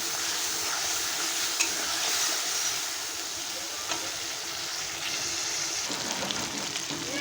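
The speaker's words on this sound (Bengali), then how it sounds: "কাঁচা লঙ্কা, পোস্ত, আদা, জিরে আর একটু কাঁচা লঙ্কার পেস্ট দিয়ে ভালো করে এখন কষিয়ে নেব।" A masala paste of green chili, poppy seed, ginger and cumin fries in a pan with a steady hiss and sizzle and occasional stirring scrapes, close and continuous, with no talking.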